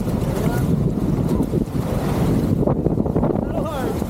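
Whitewater rafting through rapids on the Trinity River, with rushing water, wind buffeting and splashing paddles making a loud, continuous roar under occasional shouting.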